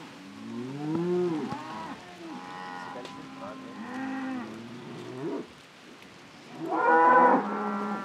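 A cow on the Gut Vorder Bollhagen farm estate lets out several drawn-out moos, loud and close, with short pauses between the calls and a final strong bellow.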